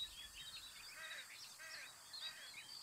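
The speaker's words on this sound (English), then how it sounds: "I just hear birds." Birds chirp and call continuously in the background of a phone-in line, faint and thin, with overlapping short tweets and whistles and no voices.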